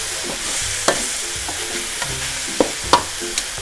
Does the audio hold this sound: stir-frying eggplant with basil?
yes